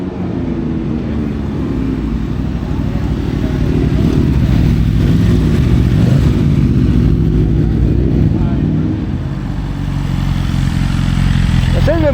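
Motorcycles rolling in for a charity ride out in Omagh, a steady loud engine drone and rumble that swells in the middle as bikes pass nearby, heard outdoors from a footpath.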